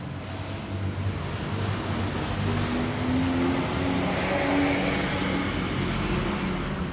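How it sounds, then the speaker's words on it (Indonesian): Fast river water rushes steadily past a non-electric, fuel-free pump with five fan blades, a constant broadband flowing roar at moderate level lasting throughout, with no talking. "Dan air akan mengalir dari depan terus ke belakang dan membentur kipas."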